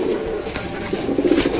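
Pigeons coo in soft, low, throaty bursts, steady and fairly close, with a continuous murmur of birds throughout.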